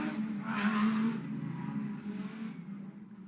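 Race cars circulating slowly behind the safety car on the Macau street circuit during a GT Cup race at the Macau Grand Prix, a steady engine drone with a brief louder swell early on, no voices.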